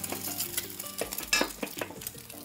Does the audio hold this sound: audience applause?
no